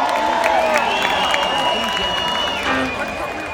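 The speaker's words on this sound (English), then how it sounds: "Weekend crowd in here. We got some excited voters out there." An excited crowd at a concert keeps cheering and whooping in a steady wash of noise, with someone talking over the din as it slowly eases off toward the end.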